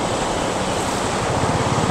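Heavy rain pours down on a waterlogged highway during a road trip from Noida to Haryana, a loud, dense, steady hiss of rainfall and splashing water with no voices.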